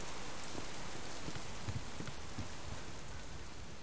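Rain pouring in the survival game Subsistence, an even hiss of drops hitting surfaces with scattered heavier splats throughout, no talking.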